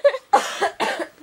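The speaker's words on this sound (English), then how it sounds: "I'm coughing" A person coughs several times in quick bursts, close and fairly loud, with short pauses between the coughs.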